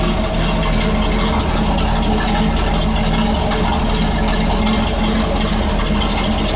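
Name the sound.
classic car engine idling, dual exhaust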